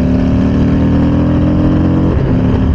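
A loud, steady motorcycle engine drone at close range on a racetrack, holding a continuous growl with a slight shift in pitch near the end, no voices.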